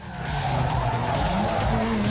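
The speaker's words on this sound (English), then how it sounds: "This car is really good at drifting in free roam." A tuned car drifting in Need for Speed Underground 2, a continuous loud tire squeal and skid over a steady engine drone, sustained without pause.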